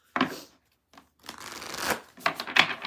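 A deck of tarot cards is shuffled by hand in three close, crisp bursts of riffling and sliding card noise separated by short pauses.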